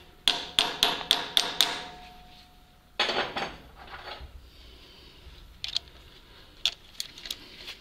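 Someone hammers on a metal part inside a ZiL 131 truck cab, first with a quick run of sharp, ringing blows, then a heavier burst and a few scattered, lighter taps, close and loud against a quiet background.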